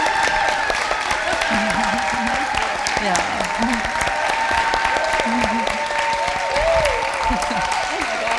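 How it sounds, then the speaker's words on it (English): A church congregation claps together in a sustained, dense round of applause, loud and even throughout, with a few voices calling out over it. "So let's first of all give a round of applause for Barb."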